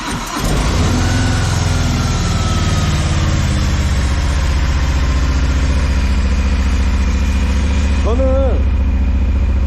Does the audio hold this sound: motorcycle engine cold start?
yes